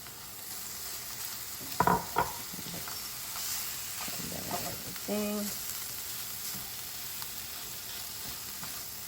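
Sausage and spinach frying in a pan give a steady low sizzle, with a few louder stirring scrapes and clatters near the start and middle.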